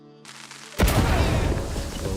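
Firecrackers explode inside a wooden attic in the video game Mouse: P.I. For Hire. A soft musical tone gives way to a sudden loud blast, followed by a dense, continuous crackle of rapid pops lasting about a second and a half.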